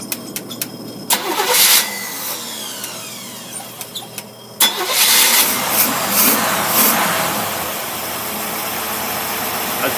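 A car engine fitted with a Rochester 4-jet carburetor cranks and catches, then runs with an uneven, rough idle; a second louder start-up burst follows midway and the engine keeps running steadily, close and prominent with no talk.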